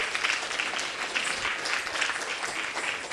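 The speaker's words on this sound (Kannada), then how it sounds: "ಮತ್ತೊಮ್ಮೆ ಜೋರಾದ ಚಪ್ಪಾಳೆ." An audience applauds dance students after a performance at a dance festival, a continuous, moderately distant patter of many hands clapping without speech over it.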